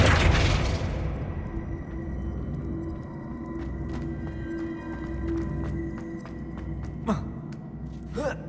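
A Flipendo spell cast in the video game Hogwarts Legacy lands as a loud, deep boom at the start, trailing into a low rumble with scattered faint clicks and a sharp swish near the end.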